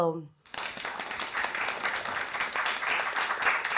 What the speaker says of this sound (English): A good round of applause for whole the team